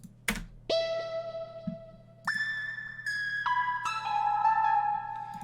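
A dry music beat with no delay or reverb: clean synth tones stepping through a short melody over a soft, steady low pulse, each note cut off abruptly with no lingering tail.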